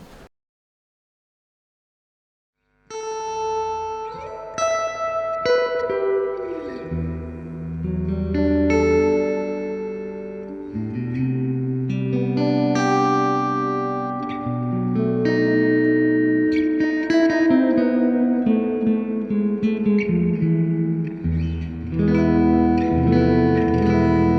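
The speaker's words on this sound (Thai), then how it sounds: "อันนี้เราเปิดรีเวิร์บอยู่ประมาณแค่เบอร์3นะเดี๋ยวลองแบบมิด เปิดเบอร์10ไปเลยลองฟังกันดู" Clean electric guitar played through a Fender Twin Reverb amplifier with the reverb turned to 10, sustained chords and notes ringing with long, washy tails, loud and alone after a brief silence.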